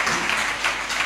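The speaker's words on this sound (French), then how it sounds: "Applaudissez Jésus pour sa vie." Congregation clapping in a church during a chapel dedication service, a steady patter of many hands filling the room, moderately loud and continuous for a brief moment with no voices standing out.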